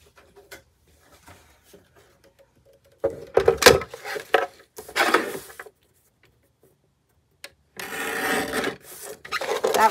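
Trimming the bottom edge of a collage masterboard, rough scraping and cutting strokes in a few close bursts separated by near silence, with light tapping and handling noises early on.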